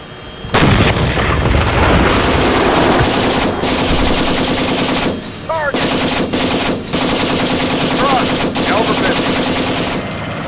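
Heavy gunfire from the Battle of 73 Easting rattles continuously and loudly, with rapid machine-gun bursts layered over deep booming cannon shots, briefly pausing midway before resuming; occasional voices are faintly audible beneath.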